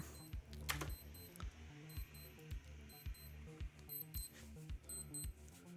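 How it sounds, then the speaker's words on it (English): Wristwatch alarm set for 9:30 beeping in short repeated bursts, evenly spaced bright electronic chirps over a quiet low rhythmic background, fairly faint. "That's my good old watch that goes off at 9:30"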